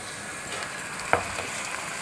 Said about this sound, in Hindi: प्याज हमारे फ्राई हो रहे हैं, अभी ब्राउन हो चुके हैं।